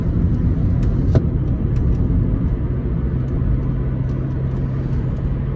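A 2008 Kia Ceed LS estate with a turbo engine cruises in third gear at low revs, a steady low road and engine rumble heard from inside the cabin.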